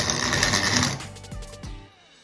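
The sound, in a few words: mill grinding dry hard corn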